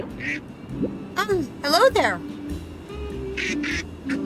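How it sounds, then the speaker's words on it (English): A goose in the video game Little Kitty, Big City gives several close, loud, nasal honks and squawks in quick bursts, with a person talking over them. "There's a goose over here."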